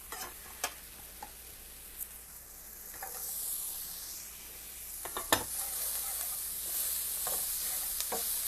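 Garlic sizzling with browning onions in a pan, a quiet steady hiss broken by occasional sharp clicks and taps of a utensil against the pan.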